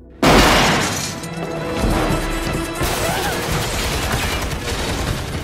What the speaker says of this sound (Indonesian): untungnya tembakan itu meleset dan si penembak berhasil kabur